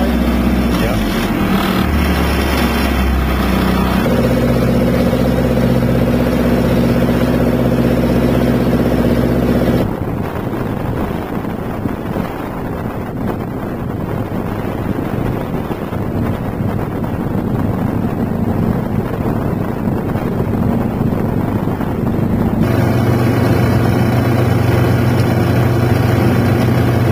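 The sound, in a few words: Yangdong diesel marine engine running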